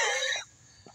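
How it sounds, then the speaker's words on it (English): A single harsh cough bursts out close up, followed by a brief quiet breath. "I think I'm still coughing up powder."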